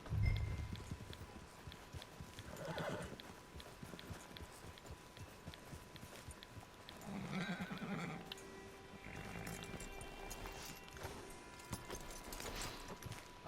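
Horse hooves clip-clop in Red Dead Redemption 2 online, steady close hoofbeats broken by loud neighs and whinnies, running over a busy game soundscape without any speech.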